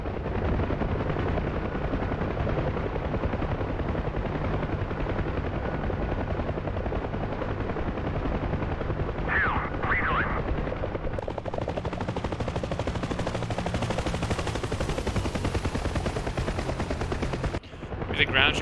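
Ground troops fire rifles and machine guns during a Huey helicopter flight in the DCS combat simulator, bursts of gunfire crackling under the steady, loud rotor thump and engine drone for the whole stretch.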